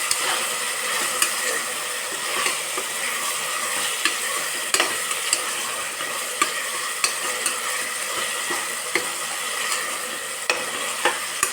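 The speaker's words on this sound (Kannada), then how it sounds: "ನಾನಿಲ್ಲಿ ಟೊಮೆಟೊಸ್ನ ಫ್ರೈ ಮಾಡ್ತಾಯಿದ್ದೀನಿ ಆಯಿಲಲ್ಲಿ." Tomatoes frying in hot oil for a soya-chunk veg biryani, a loud continuous sizzle with intermittent sharp ticks and scrapes of stirring, close and steady throughout.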